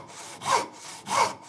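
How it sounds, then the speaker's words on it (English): Two slow, rasping strokes of a handsaw cutting through wood, each a rising and falling scrape, close and clear with quiet pauses between. "So if I start sawing away from the line like this,"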